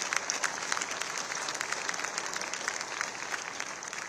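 An audience at the ICAI 77th Foundation Day event applauds to welcome the chief guest, a steady, moderately loud wash of many hands clapping throughout.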